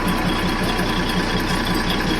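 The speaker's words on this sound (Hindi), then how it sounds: "डीजल लोकोमोटिव वाली ट्रेन है" A diesel locomotive engine of the Darjeeling Himalayan Railway toy train rumbles steadily and loudly up close at a platform, with a throbbing, knocking idle and no voices.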